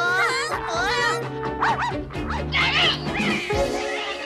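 A cartoon puppy yaps and barks excitedly in a Smurfs animated episode, several quick high yips layered over music and character voices talking.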